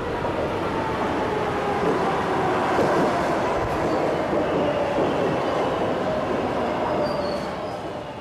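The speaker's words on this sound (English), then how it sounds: "Patricia Massari catches the M train to downtown Manhattan." An M subway train runs through Queens with a loud continuous rumble of wheels on track, metallic rattling and faint squeals, heard close from on board and easing off slightly at the end.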